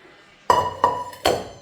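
A heavy metal cooking pot is set down with three sharp, ringing clanks close by, each strike leaving a short metallic resonance.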